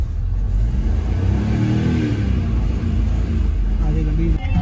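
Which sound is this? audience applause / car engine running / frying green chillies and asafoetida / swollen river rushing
car engine running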